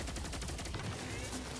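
Rapid gunfire from a gun in the game Destiny 2, dense bursts of shots layered over a constant low rumble of game sound, close and steady throughout.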